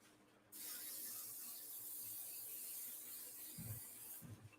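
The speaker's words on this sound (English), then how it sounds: "I'm going to spray this in my garbage can." Aerosol spray can sprayed into a garbage can during an art journal session, a continuous hiss starting abruptly and holding steady, with a few soft knocks near the end.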